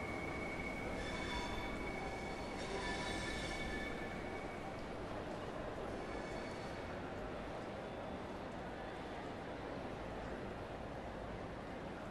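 A train in the Train Sim World 4 game rumbles steadily and close, with faint squealing wheel tones and some speech nearby.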